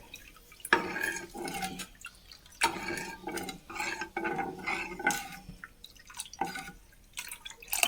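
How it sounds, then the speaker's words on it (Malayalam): Liquid bubbling and popping in a pot, with irregular bursts of gurgling and spattering up close and no talking. "നന്നായി തിളക്കട്ടെ കേട്ടോ"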